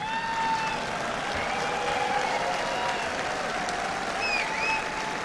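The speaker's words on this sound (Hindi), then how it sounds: "ये ताली दम वाली क्यों नहीं थी" Steady, moderately loud applause fills the hall as the audience claps during a prime ministerial address at a real-estate developers' youth conference, a continuous wash of hand claps with no speech over it.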